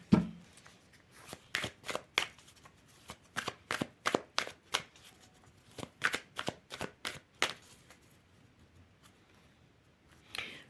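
Fortune-telling cards are shuffled by hand in a quick run of crisp, close card slaps and riffles, about twenty sharp strokes in a row, before a short pause and one last flick.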